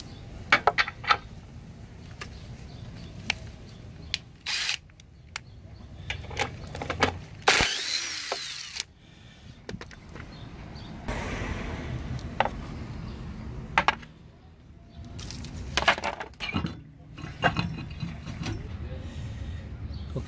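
Wheel nuts come off the rear of a 2005 Chrysler Town & Country with a driver tool, giving intermittent metallic clicks, ratcheting and clunks interspersed with quieter handling noises, close by.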